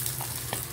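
Dried milkfish (daing na bangus) frying in a pan, a steady close sizzle with a couple of brief louder spits and stirring touches.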